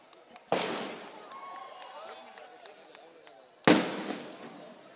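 Two sharp firecracker bursts at a Dahi Handi festival, one near the start and one later, each a loud crack fading into crackling, with a crowd murmuring in between.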